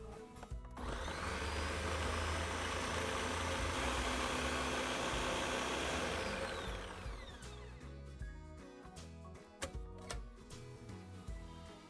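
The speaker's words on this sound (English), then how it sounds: "I went ahead and added it to the blender with just a tiny bit of water." A blender whirs loudly and steadily for several seconds blending soaked paper with a little water, then winds down and stops, leaving a few clattering bumps and knocks.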